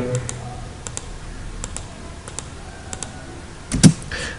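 Scattered computer keyboard key presses while working in AutoCAD Civil 3D, the J and Enter keys tapped in short irregular clicks, close and fairly quiet, ending with a louder cluster of clicks.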